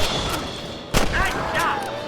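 A single sharp gunshot cracks out in the Red Dead Redemption video game, standing alone against a steady outdoor game ambience with faint whistling tones afterward.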